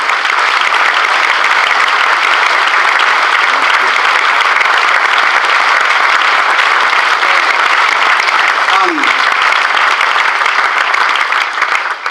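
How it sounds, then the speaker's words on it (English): A standing audience gives board members a long ovation at a town regeneration presentation, a loud, dense wall of clapping that holds steady throughout with no pauses. "Please stand up and take a round of applause to the NNDC board members."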